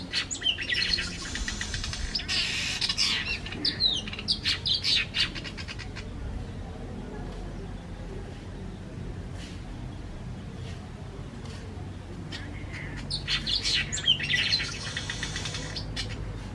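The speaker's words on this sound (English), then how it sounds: "That's a sparrow." Sparrows chirp near ripe organic pawpaw outdoors, bursts of rapid, bright twittering from several birds in two clusters at the start and end, fairly close, with a steady low outdoor background and no talk.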